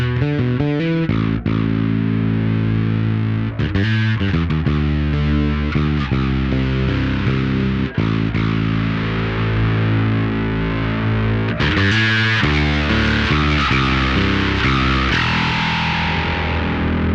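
Bass guitar played through a Darkglass Microtubes X7 distortion pedal, with heavy overdriven tone and shifting gain and treble settings, loud and sustained with repeated picked notes and chord-like riffs throughout, no voices.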